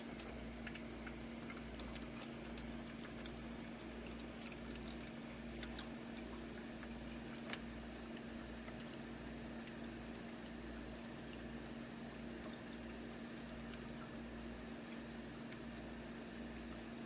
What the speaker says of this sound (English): as you saw when I was pouring in water here